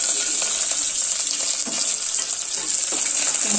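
Garlic cloves, curry leaves and dried red chillies crackle in hot oil for a coconut chutney, a loud continuous bright sizzle with small pops and faint stirring, near and unbroken.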